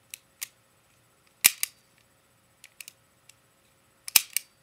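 An HFC M190 airsoft pistol dry-fired in single action: sharp metallic clicks and snaps, some in quick pairs, separated by near silence, close and crisp.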